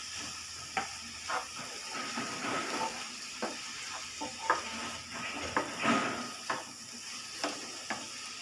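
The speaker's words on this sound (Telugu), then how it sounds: "ఇప్పుడు ఒకసారి ఇలా కలుపుకుందాం." Frying bottle gourd with turmeric is stirred in a pan, with repeated clinks and scrapes at an uneven rhythm over a soft, continuous sizzle nearby.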